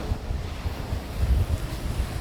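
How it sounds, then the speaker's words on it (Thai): Sea waves and wind at the shore, captured with a Sony ECM-B10 microphone, make a steady low rumble of surf and buffeting gusts with no voices. "รับเสียงทะเลเป็นไงบ้าง"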